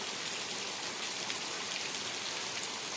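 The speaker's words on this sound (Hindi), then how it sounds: "बरसात हो गई शुरू कसम से पागलों की तरह हो रही है" Heavy rain pours steadily in Delhi in the early morning. It makes a dense, continuous hiss with no pauses and no voices.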